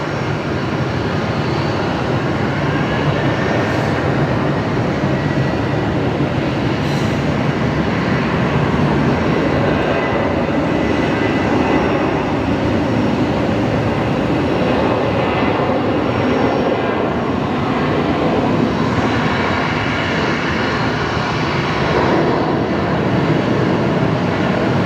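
Aircraft landing at Brisbane Airport, heard as a steady, loud broadband engine roar that holds for the whole stretch with no voices over it.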